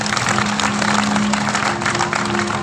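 Audience at a temple katha gathering clapping loudly to welcome revered saints, a dense, continuous wash of applause for the full few seconds, no talking over it.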